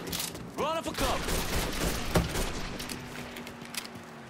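Gunfire in the video game Mafia III: Definitive Edition on PS4, with a burst of rapid shots and scattered bangs, loud and close amid the game's ambient mix and a brief voice.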